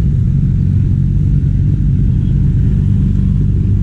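A Suzuki Burgman 400 scooter on a test ride, its engine rumbling loud and steady close by with a constant low drone and no talk.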